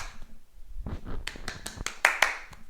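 Hand claps before catching a tennis ball, a quick run of five or six sharp claps in a row, close and fairly loud, following some soft handling noise.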